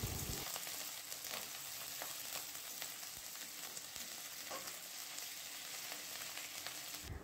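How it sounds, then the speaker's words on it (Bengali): Ginger and garlic paste fries in hot oil for a fish chop recipe, a steady, close hiss of sizzling with faint crackles and occasional stirring scrapes, continuous throughout with no voices. "এইবারে আদা ও রসুন বাটাটা কিছুক্ষণ আমি ভেজে নেব"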